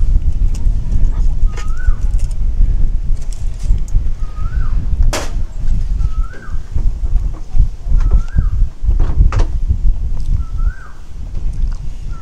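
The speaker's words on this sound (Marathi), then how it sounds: "फक्त एक मागे कोकिळेचा आवाज येतोय" An Asian koel cuckoo calls in the background, five evenly spaced rising notes a couple of seconds apart, heard at a distance over a steady rumble of wind.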